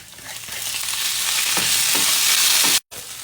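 Onion, garlic and tuna frying in oil, a loud continuous sizzle with soft stirring scrapes, briefly cut out near the end before resuming.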